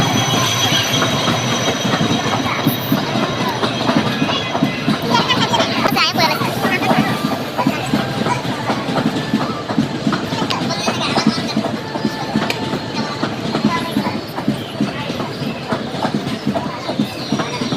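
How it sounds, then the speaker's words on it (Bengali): Trains roll past on railway tracks, a steady loud rumble of wheels and railcars with clickety-clack and occasional wheel squeal, faint crowd babble mixed in throughout. "কয়েকটা ট্রেন এখানে যাচ্ছিল, তো আমি একটু ভিডিও করেছি"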